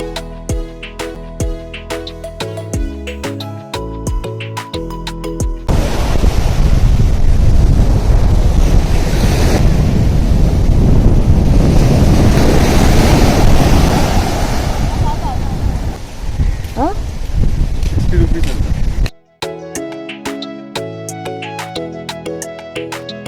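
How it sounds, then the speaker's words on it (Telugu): Waves and strong wind roar at Sinquerim Beach near Aguada Fort in Goa, a loud, steady wash with heavy wind buffeting the microphone, framed by music at the start and end. "లోవర్ అగోడా ఫోర్ట్ దగ్గర ఉంటుంది సింక్వేరియం బీచ్ ఇది"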